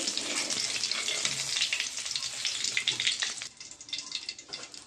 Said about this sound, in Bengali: ওই মাছটা দেখুন পুরো ভাজা হয়ে গেছে